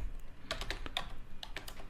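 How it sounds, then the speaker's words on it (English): Several separate keystrokes on a computer keyboard as a terminal command is typed, crisp clicks in an irregular rhythm, close and fairly quiet, with no talking. "To run the command, I open the terminal, I type ffplay,"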